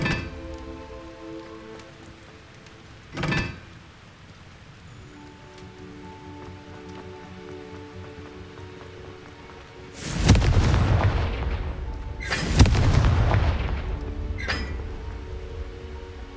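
Confringo blasting-spell explosions from the Hogwarts Legacy video game: a sharp blast near three seconds, then two heavy, roaring bursts around ten and twelve seconds over steady ambient game sound, with a fainter crack after.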